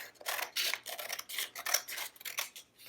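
Scissors snipping through paper along a drawn straight line, a quick run of crisp, close cuts with short pauses between them, no voices.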